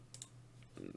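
Mouse clicks on a computer while navigating a Godot game-engine editor, two crisp clicks near the start, close and quiet, over a low steady hum.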